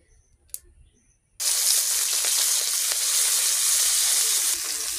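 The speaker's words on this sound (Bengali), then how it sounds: "এগুলো আগে ভেজে নিব একটু।" Fish for home cooking hit a hot oiled pan after a moment of near silence. A sudden loud hiss erupts and then holds as a steady, close, bubbling sizzle.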